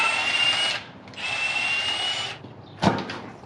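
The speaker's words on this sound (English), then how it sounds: "we're going to go ahead and remove all of the bolts that are holding that oil pan on" A power tool whirs in two sustained bursts while removing the oil pan bolts from a Honda K24 engine, then a sharp knock follows, all close and with no talk.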